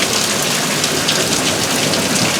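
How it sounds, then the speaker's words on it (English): Heavy rain pours down steadily and close by during a severe nighttime thunderstorm with wind and lightning in Tornado Alley. It makes a dense, constant hiss with no clear thunder claps. "there's a lot of lightning and wind in this storm"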